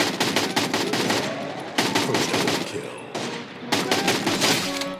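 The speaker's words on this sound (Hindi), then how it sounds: "ओके ये M4A1 की साउंड।" Bursts of M4A1 rifle fire in the Free Fire Max Clash Squad game: three loud, sustained automatic volleys with brief pauses between them, close and dense.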